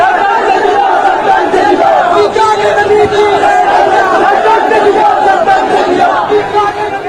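A protest crowd in Beawar chants slogans in unison, a loud, dense mass of voices sustained throughout with shouting layered over the babble.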